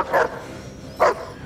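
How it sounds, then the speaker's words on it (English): A dog barks twice in a scene from the 2019 film Carmilla, two short sharp barks about a second apart over a quiet background. "the reaction of a dog."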